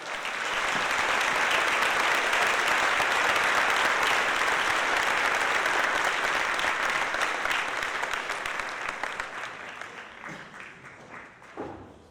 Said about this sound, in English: So let's give each of these students a round of applause